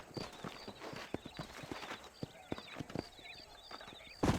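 Horse hooves in the video game Red Dead Redemption 2 clip-clop at a steady walking pace, with a few scattered thuds, and a brief louder burst at the very end.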